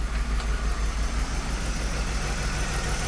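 BMW E46 convertible engine, a neglected barn find, idling close up with a steady low rumble and a slightly uneven, hunting pulse.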